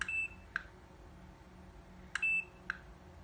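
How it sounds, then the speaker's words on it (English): Two pairs of short electronic beeps from a HiKam A7 WiFi security camera speaker, each a higher tone followed by a quick click-like blip, separated by a pause in a quiet room. "there's a little speaker down in here where the beep sound comes from"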